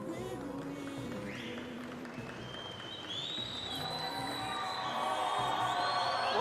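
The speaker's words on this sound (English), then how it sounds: "Well, the crowd's erupting now at Corman Stadium" A stadium crowd at an athletics race at the Pacific Mini Games cheers and applauds steadily, growing louder and more excited toward the end, with whistles and shouts rising above it.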